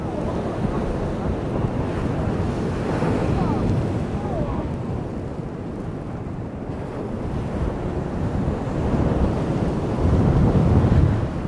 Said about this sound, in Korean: 바람이 엄청 불어.